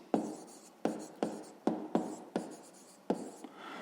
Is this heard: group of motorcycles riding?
no